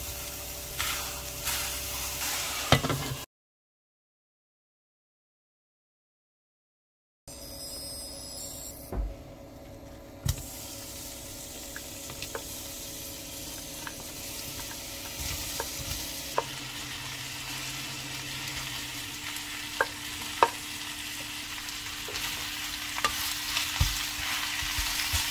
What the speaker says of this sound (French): Je vais commencer par cuire les choux en premier.